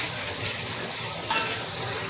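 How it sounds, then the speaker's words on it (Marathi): Spices being stirred into mutton curry in a frying pan, a steady close sizzle with a short scraping clink of the spoon against the pan partway through. "याला चांगलं मिक्स करून घ्यायचं"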